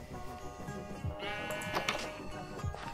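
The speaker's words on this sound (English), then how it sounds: "So there's one sheep around here." Sheep in Minecraft, in the Minecolonies mod, give a bleat or two over steady game music, clear and close in the middle of the stretch.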